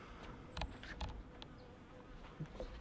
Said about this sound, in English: Bee, there's a bee.